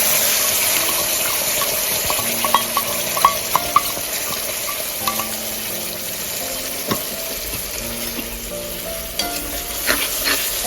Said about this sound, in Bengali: ভালো করে নাড়াচাড়া করে নিতে হবে মশলাটা।